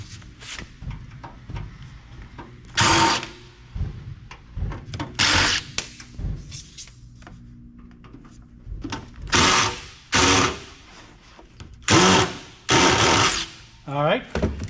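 A power driver spins Phillips screws out of an older Compaq PC case, producing short whirring bursts separated by pauses, fairly close and moderately loud, with a person talking between bursts.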